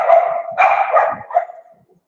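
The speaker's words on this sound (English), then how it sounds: "the dogs are just going a bit crazy" Several dogs bark loudly and excitedly up close in a short burst of overlapping woofs and yips, fading out after about a second and a half.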